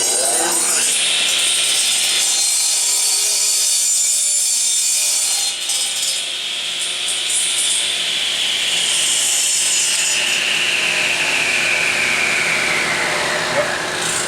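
A blade trims the very edge of a wooden candle holder made from a template, giving a steady, loud, continuous rasping cut with shifting pitch that runs alone for the whole stretch.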